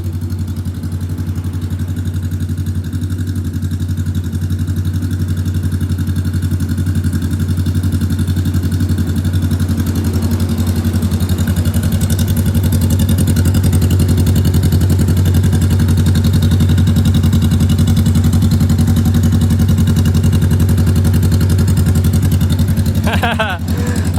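A Honda Rebel 500 motorcycle idles close by, its exhaust giving a steady, low, throbbing rumble that holds even for the whole stretch, with talk now and then over the engine.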